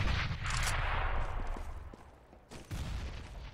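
In Counter-Strike, a CZ pistol fires in rapid bursts, with loud clustered shots at the start, scattered single reports after, and a second burst near the end.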